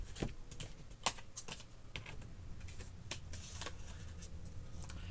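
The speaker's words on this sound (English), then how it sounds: "Let me just get one more card. Or two more cards." Tarot cards drawn from a deck, with faint, close clicks and papery taps in an irregular patter over a quiet background hiss.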